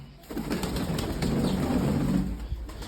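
Pigeons in a pigeon loft coo in low, rolling murmurs that run almost continuously, with a soft flutter of wings near the start and a steady hum of background noise throughout.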